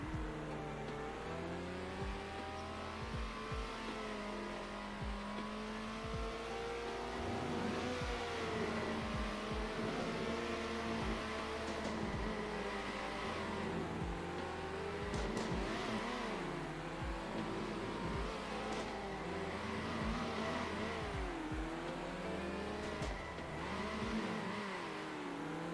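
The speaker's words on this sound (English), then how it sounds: "let me back the car up here and take a flyer and see where we end up" A race car in a racing video game accelerates around a track, its engine revving up and down through gear changes in a continuous loud whine, with brief tire squeals and no talk.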